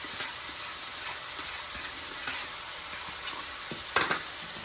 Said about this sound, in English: I'm gonna throw my onions in here. Throw my green peppers. Throw that little garlic